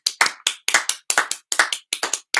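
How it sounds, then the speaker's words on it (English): A small group indoors claps in loose, uneven bursts, each sharp slap distinct and close, with brief gaps between clusters of claps over a couple of seconds. "Just stand up and applaud."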